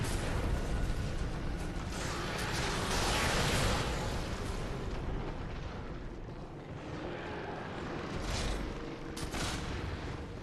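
Cannon fire in the Bloodborne video game, a sustained heavy roar of artillery-like blasts and rumbling debris that rises and fades over several seconds, with no talking.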